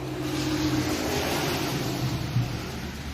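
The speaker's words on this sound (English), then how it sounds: "There went a pick-em-up truck." A pickup truck drives past outdoors on Christmas evening at dusk, a steady broadband engine and road rumble holding level for about three seconds, moderately near with no talk over it.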